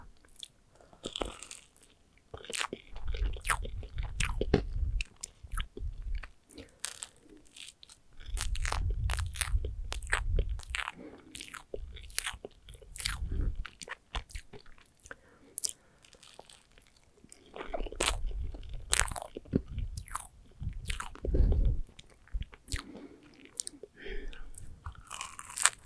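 Chocolate-coated marshmallow treats on a wafer base are bitten and chewed close up, with repeated crunchy bites and soft chewing in clusters separated by brief pauses.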